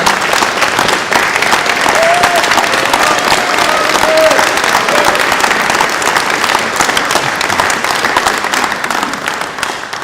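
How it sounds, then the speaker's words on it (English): An audience at an evening reception breaks into loud, dense applause for young singers, sustained for about ten seconds with a few faint voices or cheers mixed into the clapping. "And one massive round of applause for our young singers"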